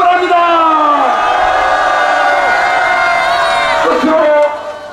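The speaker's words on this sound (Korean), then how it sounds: "태극기를 힘차게 흔들면서 함성으로 발언해 주시기 바랍니다." A large outdoor rally crowd roars and shouts in unison, loud sustained cheering with whoops and bellowing voices that swells, holds for several seconds, then fades at the end.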